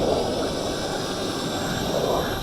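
A Flying 3D X6 Plus GPS FPV drone in flight gives a steady, jet-like whooshing roar that stays loud and even from start to finish, with no talking.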